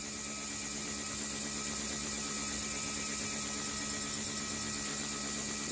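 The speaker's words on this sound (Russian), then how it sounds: "Вот такой вентилятор крутится." A small electric fan hanging on a thread spins with a steady, even hum and whir that stays constant throughout, close and moderately loud with no talk.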